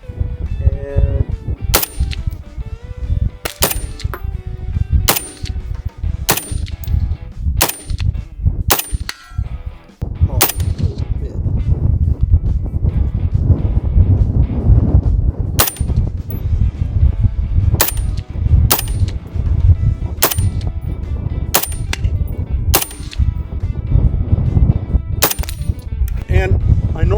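A SCAR rifle fires 5.56 rounds outdoors in gusty wind of about 18 mph: sharp, loud single shots spaced irregularly a second or two apart, with steady wind rumble underneath throughout.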